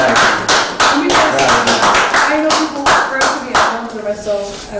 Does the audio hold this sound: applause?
yes